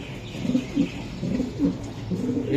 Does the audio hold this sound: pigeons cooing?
yes